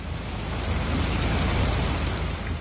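Heavy downpour in Nairobi during flash floods: a dense, steady roar of rain drumming on surfaces, loud and unbroken throughout, with no voices.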